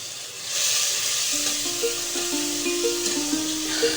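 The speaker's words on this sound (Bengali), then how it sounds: "একটা কড়াইয়ে পেঁয়াজ, সয়াবিন তেল দিলাম, দিয়ে কিছুক্ষণ নাড়লাম।" Onions frying in soybean oil in a wok (kadai), giving a loud, steady close sizzle with stirring that rises after a quiet start, with faint tonal pings in the background.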